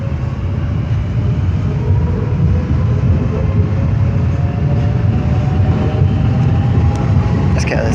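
An Electrostar electric train arriving at London Charing Cross, a loud steady low rumble and rolling drone with faint squeals, close by, while a voice talks over it.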